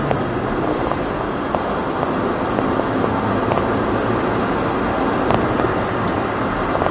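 Kia Rio 1.5 CRDi diesel engine turning about 5000 rpm while cruising near 100 km/h, a steady loud droning cabin roar mixed with road and wind noise, constant throughout with no voices.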